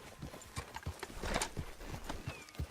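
Horse hooves clip-clop at a steady walking rhythm in Red Dead Redemption 2, a run of close, distinct hoofbeats with faint outdoor ambience and no talking over them.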